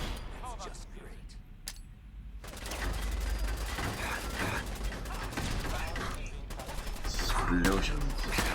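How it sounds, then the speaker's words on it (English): Sustained bursts of gunfire and explosions in the video game Fallout 4, loud and dense, with heavy rumbling booms and rapid shots building toward the end. "Explosions"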